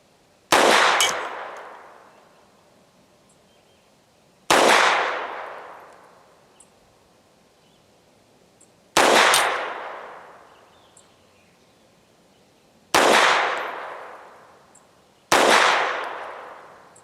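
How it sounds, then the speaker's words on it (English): FEG AP-MBP 7.65mm pistol fired outdoors: five loud, sharp shots, each spaced several seconds apart, with a long ringing decay trailing after every report. "First rapid fire shots, one there, one there, one there"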